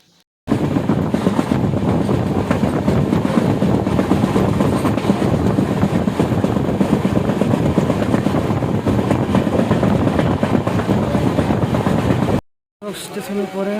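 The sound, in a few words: Dhauli Express train running on rails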